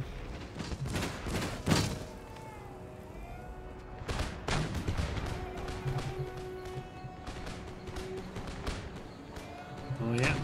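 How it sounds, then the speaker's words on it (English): Mortars firing in the Empire Total War battle game, a series of sharp booming shots scattered irregularly across the scene over a steady rumble of battlefield noise, with a voice talking throughout. "let's begin folks firing those mortars"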